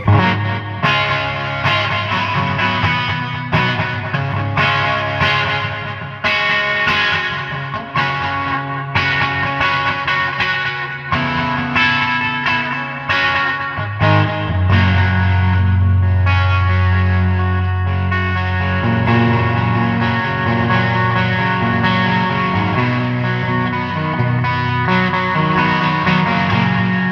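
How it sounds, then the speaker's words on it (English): A JTM 45 guitar amp driven by a Keeley Filaments pedal in front roars with distorted guitar, loud and continuous, moving from chopped chords into long sustained notes. "With the Keeley Filaments pedal in front of it."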